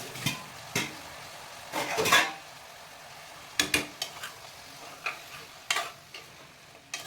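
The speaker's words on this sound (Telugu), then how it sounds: "చిక్కుడుకాయలు వేసేసుకొని బాగా తిప్పేయాలండి" Broad beans and potato stirred in a frying pan, with soft scraping stirs and occasional clinks of a spoon against the pan over a faint sizzle, close and without talk.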